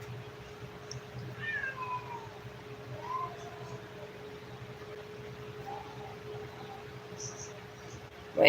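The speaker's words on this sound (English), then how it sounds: "My insane cat." A pet cat meows several times, drawn-out and wavering calls spread over a few seconds, fairly close against a steady background hum in a quiet room.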